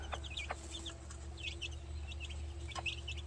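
An old gray gamefowl hen and her young chicks give soft, repeated clucks and high peeping calls close by, scattered irregularly over a steady low hum.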